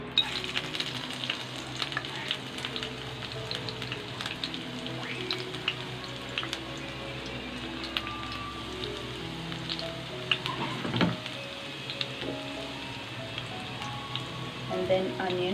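Garlic sizzles in hot oil in a wok for veg hakka noodles, a continuous crackling fry with scattered sharp pops and occasional stirring clicks, close and steady.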